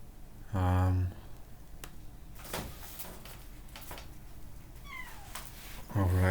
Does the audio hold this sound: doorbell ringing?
no